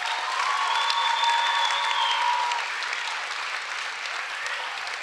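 An audience at a Say Yes to Education event in Cleveland claps in a dense, steady wave of applause that fades a little toward the end, with a few faint whoops.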